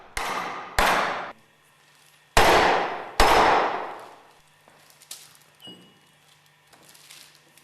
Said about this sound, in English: Carefully hammer the clutch driver into the grooved ball bearing with light blows using a rubber mallet.